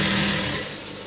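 A sewing machine stitching blouse lining fabric, a short close burst of fast, steady mechanical whirring that eases off toward the end.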